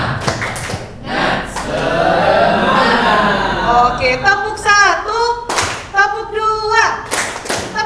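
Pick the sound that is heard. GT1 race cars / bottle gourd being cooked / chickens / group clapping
group clapping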